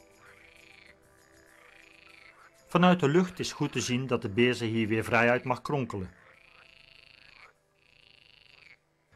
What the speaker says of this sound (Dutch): De groene kikker geeft hier zijn zomerconcerten.